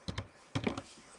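A few quick keystrokes on a computer keyboard, two clusters of soft close clicks and taps in a quiet room, with no voice over them.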